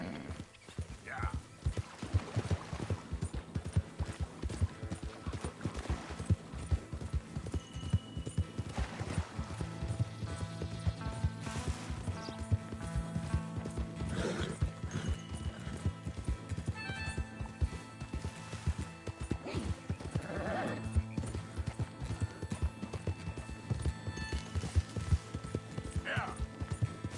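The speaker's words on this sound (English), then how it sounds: "Easy. Whoa. Come on, horses." Horses clip-clop steadily and whinny now and then in Red Dead Redemption II, the hoofbeats continuous under quiet talk.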